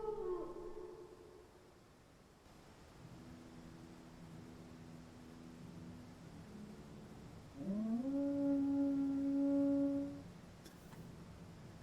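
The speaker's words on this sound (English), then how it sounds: "I don't know why they made the hunger sound like just a yowling dog." A drawn-out yowling cry like a howling dog comes from the Hunger creature in the Guild Wars Nightfall game, a wavering tone that swells near the end and then fades over a low ambient background.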